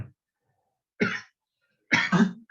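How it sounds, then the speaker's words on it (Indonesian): A person coughs in three short, dry bursts, the last a quick double cough, close to the microphone with silence between. "Agak batuk."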